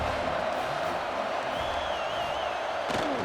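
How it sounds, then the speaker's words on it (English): In the EA College Football game, a stadium crowd roars as a dense, unbroken wall of noise through a two-point conversion attempt, with faint whistling whoops and a dull thump near the end. "The crowd is roaring now, trying to help the defense stop this two-point conversion."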